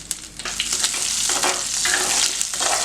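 Mustard, cumin and fenugreek seeds splutter in hot oil in a pan, a dense close crackling sizzle with sharp pops throughout.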